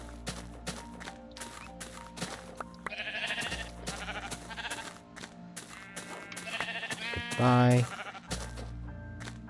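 Sheep bleat in Minecraft Beta, one prominent wavering bleat near the end standing out over game music and footstep clicks, with a person talking in between.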